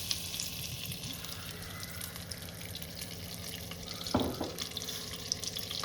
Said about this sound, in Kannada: ಪಾತ್ರೆ ಬಿದ್ಮೇಲೆ ಬೆಣ್ಣೆ ಸ್ವಲ್ಪ ಹಾಕ್ಬೇಕು